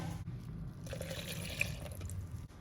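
Water measured in a measuring cup poured into flour for chicken spring roll dough, a steady close trickle and splash lasting throughout with no talk.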